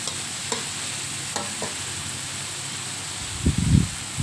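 Pork stir-frying in a pan for a home-style cabbage and pork dish, with a steady soft sizzle, a few light scrapes early on, and a louder burst of stirring and clatter near the end.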